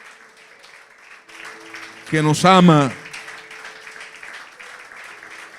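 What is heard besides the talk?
congregation applauding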